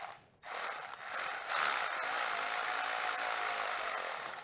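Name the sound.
ratchet clicking while tightening a dirt bike rear brake bolt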